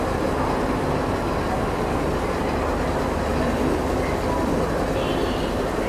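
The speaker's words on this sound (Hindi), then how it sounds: "ये लोकोमोटिव यहीं से अलग हो जाएगा। अभी वहाँ डीकपलिंग की प्रोसेस चल रही है, थोड़ा सा आगे बढ़ के खड़ा हो जाएगा।" A train locomotive uncoupling at a large station platform before easing slightly forward gives a steady, dense rumble of rail noise, continuous and moderately loud, with no distinct clanks standing out.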